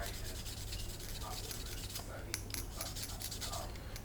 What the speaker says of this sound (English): as I'm scraping away this line